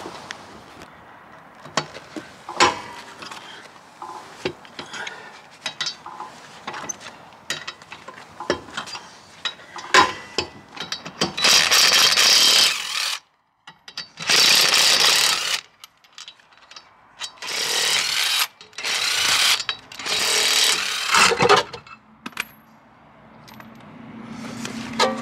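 A wrench ratchets on the brake caliper bracket bolts of a Volvo V70N rear brake, sharp metallic clicking at first, then several longer loud ratcheting bursts close by.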